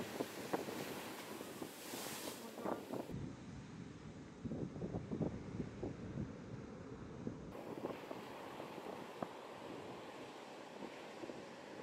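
Ocean waves wash ashore at Prevely on the coast near Margaret River, a faint, steady surf rush with gusty wind buffeting the microphone and no voices.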